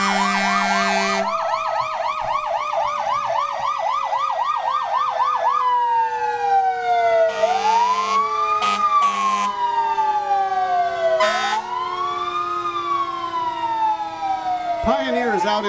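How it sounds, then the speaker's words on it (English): Emergency vehicle sirens from Pioneer fire company units passing in the 2019 Kunkle 4th of July parade, loud and close: rapid yelping wails shift into slow rising and falling tones, with blasts of air horn layered over the top. "They're going to be using those sirens."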